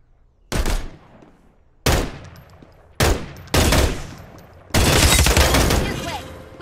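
Gunfire in the battle royale game Farlight 84: five loud separate bursts, the last one a longer sustained volley, each with a short echoing tail.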